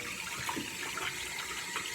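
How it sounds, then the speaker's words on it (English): Tap water runs steadily from a faucet as hands are washed before applying a water-based hair product, a continuous hiss and splash with no voices. "I'm gonna wash my hands first"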